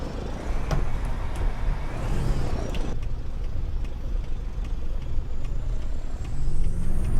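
The standard Peterbilt truck with a double trailer in American Truck Simulator drones with a steady low engine rumble, loud and continuous, shifting slightly in tone partway through and rising a little near the end.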